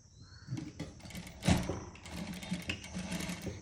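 A sewing machine stitches a saree blouse in short, uneven runs of needle chatter with faint handling noise between bursts, close but fairly quiet and without speech.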